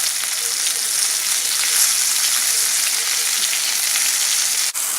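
Liver frying in a pan, a loud, steady, close crackling sizzle that holds without a break throughout.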